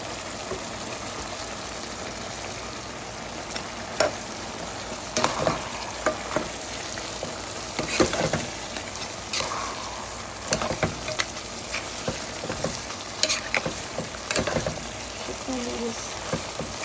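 Beef sizzles steadily in a pan while being stirred, cooked without spices, with a continuous frying hiss broken by scraping strokes and clinks of the utensil, and a voice speaking softly at times.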